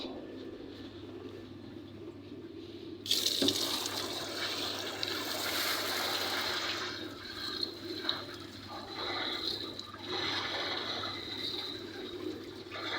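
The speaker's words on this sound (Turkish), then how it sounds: "İlacım bu şekilde akıyor." Liquid copper fungicide for a walnut orchard pours from a container into a sprayer tank, a sudden steady gush of splashing liquid that begins after a quiet few seconds and continues close and even, with faint birds cooing in the background.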